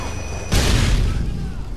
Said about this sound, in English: Oh, that's a great grenade.